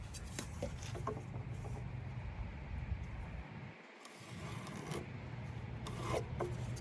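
A hand saw cuts through a 2x10 wooden pergola beam, making a continuous rasping stroke after stroke, close and steady, with a brief lull midway and no talking.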